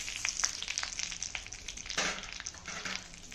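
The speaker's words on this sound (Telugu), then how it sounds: "ఇది ఒక 5 మినిట్స్ లో ఫ్లేమ్ మీద పెట్టి ఫ్రై చేయాలి" Pumpkin seeds frying in a pan over a low flame, with a soft, steady sizzle and light crackle, fairly quiet and close, and a brief stirring scrape partway through, with no voices.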